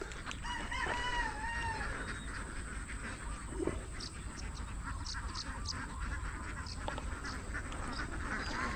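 Domestic ducks (itik) kept on a large fenced lot in Nueva Ecija quack in a busy flock, with repeated nasal calls over steady outdoor background noise and a rooster-like crow early on.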